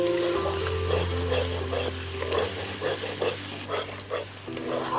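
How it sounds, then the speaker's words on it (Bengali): Kashmiri chili powder and turmeric sizzle in hot oil as spices are stirred in a pan, a steady close frying hiss with soft scraping strokes and a low hum underneath, no talking. "একটু নাড়িয়ে নেব।"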